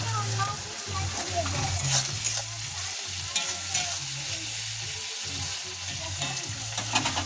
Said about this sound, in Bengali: আমি পেঁয়াজটা ভাজতে ভাজতে একটু নুন দিয়ে দিচ্ছি